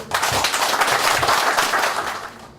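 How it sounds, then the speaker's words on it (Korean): Dense, loud applause fills an apartment association rally hall as a member of parliament arrives, sustained many-handed clapping that fades slightly at the end. "박수 보내세요."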